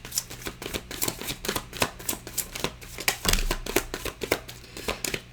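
A deck of oracle cards is shuffled by hand, a rapid run of crisp riffling snaps and flutters in uneven bursts, close and moderately loud, with no talking.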